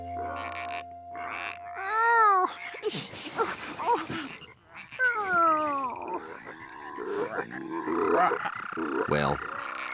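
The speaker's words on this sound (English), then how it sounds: "Before long, George thought the frogs were even more fun than the tadpoles" Cartoon frogs croaking in a kids' animated show, a run of squelchy, warbling croaks and bending voiced calls that rise and fall in bursts over ten seconds, lively and close.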